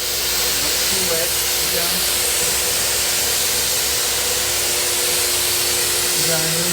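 Spray gun applying a light tack coat of paint to a dining table, a loud continuous hiss of spraying that runs throughout.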